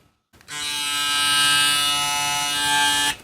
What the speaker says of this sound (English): this is my favorite Wmark hair clipper